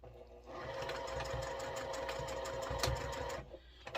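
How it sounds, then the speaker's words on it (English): A sewing machine running a basting stitch along the edges of fabric, with a steady fast mechanical whir and rapid needle chatter that starts abruptly and stops about three seconds later. "we're going to baste down each side at 1/8 of an inch"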